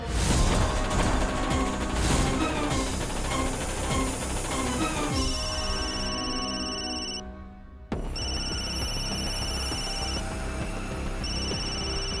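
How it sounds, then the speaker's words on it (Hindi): A phone ringtone chimes repeatedly in bursts over a loud, busy music bed in a Hindi TV drama scene, pausing briefly before ringing again. "फोन क्यों नहीं उठा रही हो पूजा?"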